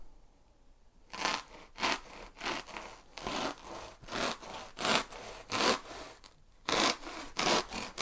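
A hand saw cuts through a sheet laid along a ruler. Rough, rasping strokes repeat in an uneven rhythm, close up after a quiet start, with a short pause before a final burst of strokes.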